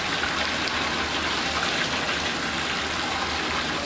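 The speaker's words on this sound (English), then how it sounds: "the water level is getting higher in the tank" Water rushes steadily into a tank during a check valve flow test, a loud, unbroken gushing hiss from start to finish.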